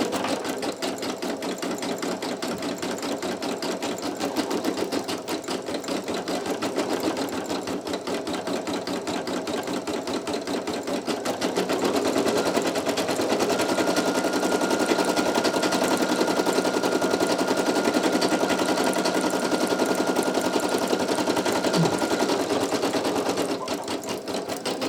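Brother PE800 embroidery machine stitching a towel, a steady rapid mechanical clatter of the needle running continuously, growing slightly louder and denser midway, with no talking.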